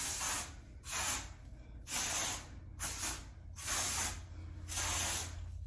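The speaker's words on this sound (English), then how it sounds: "I grab my Fae 4 Texture Takeover. This is a hairspray." Fae Texture Takeover hairspray hisses onto short hair in six even bursts of about half a second each, separated by brief pauses, loud and close with a faint steady hum underneath.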